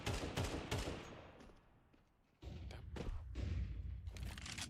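Auto sniper rifle fire in a Counter-Strike match plays as a fast series of sharp, punchy shots. The shots come in quick bursts, with a short lull before the firing starts again, loud against quiet in-game ambience.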